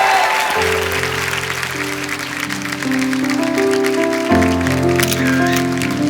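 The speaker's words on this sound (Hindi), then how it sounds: "जोरदार तालियां एक बार हो जाए।" A studio audience at a comedy talk show claps loudly and steadily for several seconds, the dense applause blending with music playing underneath.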